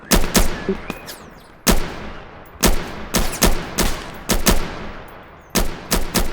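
Loud, close bursts of video game gunfire in a war shooter set in Ukraine, sharp rapid volleys of two to four shots separated by brief pauses, heard alone without talk.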